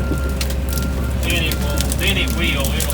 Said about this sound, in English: You ought to hear the birds singing here.